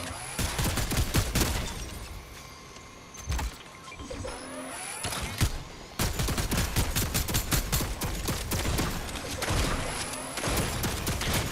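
A turret in the Fortnite video game fires rapid, loud bursts of gunfire, with repeated sharp shots that stop briefly and then resume throughout.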